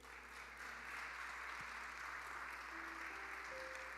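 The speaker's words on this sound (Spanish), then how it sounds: "¿Cuánto le damos un aplauso al Señor?" A church congregation claps together in a steady, dense wash of applause for about four seconds, fairly distant and moderately loud, with faint sustained tones like soft music or voices underneath.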